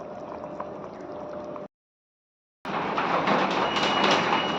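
Goan fish curry gravy bubbling and simmering in a pan, a steady liquid bubbling hiss that cuts out for about a second before resuming a little louder.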